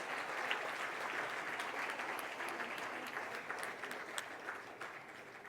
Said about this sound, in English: give a huge, big round of applause for all the winners